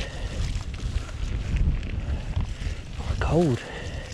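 Steady, loud wind buffets the microphone on Green Hill near the Stiperstones on a cold day, a dense low rumble running the whole way through, with a brief voiced sound rising over it near the end.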